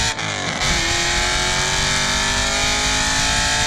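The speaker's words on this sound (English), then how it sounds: "This car is loud" A C5 Corvette engine roars loudly and continuously, a harsh, heavy rumble with a brief dip near the start before holding steady, close by with no talking.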